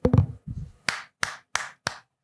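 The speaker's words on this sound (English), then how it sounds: "A normal person claps like this." A person gives a few ordinary hand claps as a demonstration, four crisp, evenly spaced sharp claps close by, following a couple of brief voiced sounds at the start.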